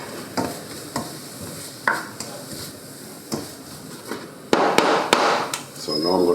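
Onions brown in a hot pan for rigatoni arrabbiata, a steady sizzle under repeated taps and scrapes of a utensil across the pan bottom, while a person talks.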